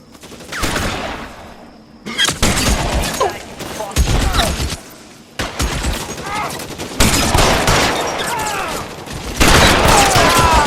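Dense gunfire rattles through a shootout in the video game L.A. Noire, with bursts of rapid shots and loud booms broken by brief pauses, while voices shout over the firing.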